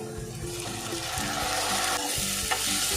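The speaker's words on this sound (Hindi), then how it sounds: "टमाटर अच्छे से भूनने के साथ हम इसमें नमक ऐड करेंगे" Grated tomato frying with onions in a pan, stirred continuously: a dense, even sizzle with soft scraping strokes, close up and without talk.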